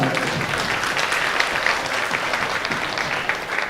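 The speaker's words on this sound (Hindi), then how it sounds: "जोरदार तालियों से स्वागत" A crowd of devotees at a Shiv Mahapuran recitation in a village temple claps loudly and steadily, a dense, sustained burst of applause with no pause.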